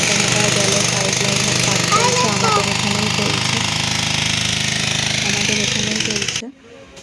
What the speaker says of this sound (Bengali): আর তারই জন্য মেশিন দিয়ে গর্ত খোলা হলো